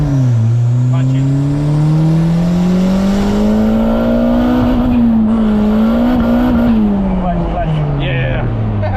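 A turbo Honda Del Sol accelerates hard from close by, its engine droning loudly with a pitch that rises and falls through the revs. Voices talk over the engine noise.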